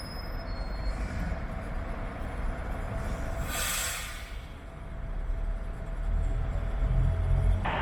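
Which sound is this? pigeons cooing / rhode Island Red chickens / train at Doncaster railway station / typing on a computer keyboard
train at Doncaster railway station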